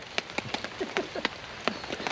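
Rain pattering on a lightweight bushcraft camp, scattered close drops tapping irregularly at a steady moderate level with no voices.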